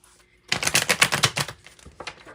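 Tarot cards being shuffled, a quick burst of crisp riffling and flicking that starts abruptly, runs for about a second, then tapers into a few softer card slides and taps.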